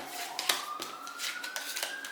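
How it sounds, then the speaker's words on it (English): A distant siren wails with a slowly rising pitch, half-buried under close, rapid clicks and flutters of shuffling cards. "Hear those sirens"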